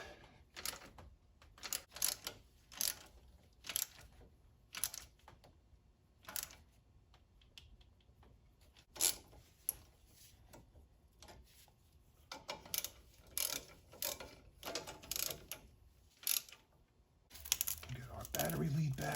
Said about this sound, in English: Tighten up your bolts.